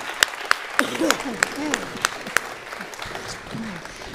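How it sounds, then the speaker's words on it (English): Audience applause for two storytellers at a performing arts center, a modest round with distinct sharp claps over a background of murmuring voices and speech-like tones. "Let's give them another round of applause."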